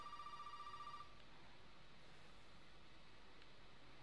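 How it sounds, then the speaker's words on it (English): A telephone rings in the horror video game Resident Evil 7, a faint repeating electronic trill for about a second before it stops, leaving quiet room hiss. "let's wait a bit with picking up the phone"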